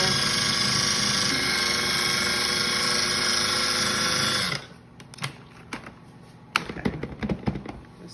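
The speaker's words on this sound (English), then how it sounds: "You're supposed to pulse it until it looks like cornmeal, so gotta go for a little bit longer." A food processor pulses scone dough in a loud, continuous whirring burst for about four and a half seconds, then stops. Scattered clicks and knocks of handling follow.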